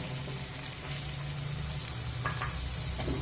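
Fried paneer for paneer tadka sizzles and crackles in hot oil in a pan, a steady, close frying hiss with occasional light stirring.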